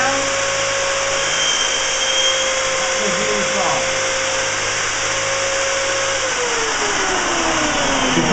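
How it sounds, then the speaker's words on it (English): A steady electric drill motor whirs continuously at close range, spinning a bit in a Vintek drill bit sharpener, with a constant high tone that drops slightly near the end. "turn on your drill and spin it around"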